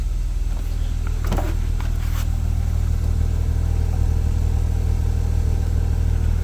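A BMW E36 M3 engine idles steadily after a cold start, a low continuous rumble heard close, with a few brief mechanical clicks early on.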